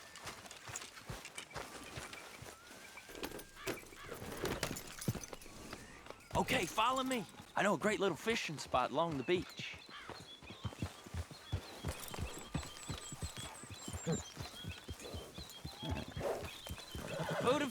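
Horse hooves clip-clop steadily in Red Dead Redemption as riders head along a beach toward a fishing spot, the rhythmic steps running continuously beneath conversation and occasional whinnies.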